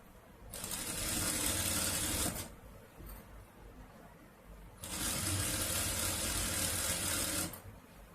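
A sewing machine runs in two steady bursts, each a couple of seconds long, as a jacket is stitched from a saree pallu, with a brief quiet pause between the runs. The whirring is close and continuous with no talking.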